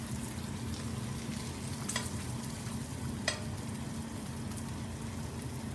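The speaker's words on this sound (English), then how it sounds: "So you see how our fat's rendering nicely." Pancetta fat renders in a hot pan with a steady, close sizzle and crackle, broken by a couple of sharper spits and a faint stirring scrape.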